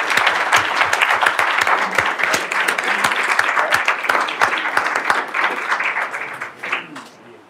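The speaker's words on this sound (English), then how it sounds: "I think they have more than earned a round of applause for sticking with the rules and doing a great job." An audience at a candidate forum for Republican US House hopefuls in the 3rd District gives sustained, dense applause that holds steady for several seconds before tapering off at the end.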